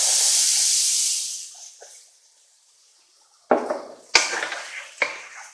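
Minced onion dropped into hot olive oil in a pan hisses loudly, then fades to near silence over about two seconds. A few sharp clanks of a utensil on the pan follow.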